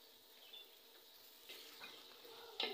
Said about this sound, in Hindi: अब इसके चिकन के पीसेस ऐड कर देंगे सारे।